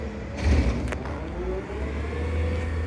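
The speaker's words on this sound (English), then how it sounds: "Did you see that truck going by when the yard waste truck is throwing some yard waste?" A passing yard waste garbage truck in a residential street, a steady low engine rumble that swells slightly as it drives by, moderately near and alone without talk.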